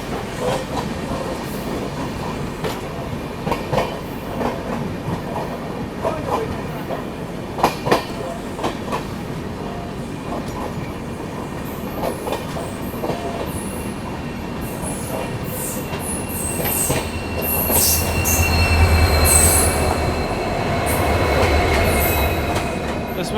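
An Agartala–LTT Mumbai AC Express passenger train runs with two banker locomotives coupled at the rear. Steady rail rumble and clickety-clack of wheels over joints, with wheel squeal, swells louder toward the end, no voices.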